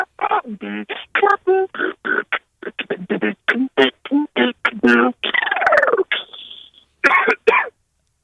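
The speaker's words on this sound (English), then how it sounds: "a little cough action there" A rapid run of beatbox vocal percussion made with the mouth, punctuated by sharp cough-like bursts and a gobbling, rasping sweep near the end.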